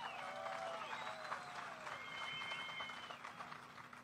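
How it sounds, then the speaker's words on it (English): A crowd at a drive-through bass fishing weigh-in on Lake Okeechobee during a 2023 Bassmaster Elite Series event claps steadily and loudly for the full length, with whistles rising above the applause. "I mean, this is an amazing crowd."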